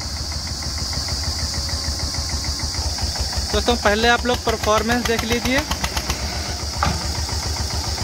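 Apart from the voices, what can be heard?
Swaraj 825 XM tractor engine running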